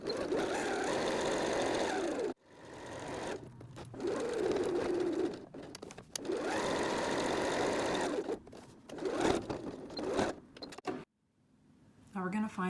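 A sewing machine runs in two steady bursts of stitching a second row along a library bag, each several seconds long, with short pauses and faint handling noises between them and a quiet stretch near the end.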